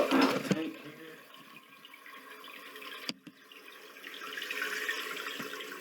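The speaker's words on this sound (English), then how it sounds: "So the water's coming up pretty quick" A toilet tank refilling after a Fluidmaster all-in-one repair kit is fitted, giving a steady hiss of running water that builds slowly, with a sharp clunk partway through.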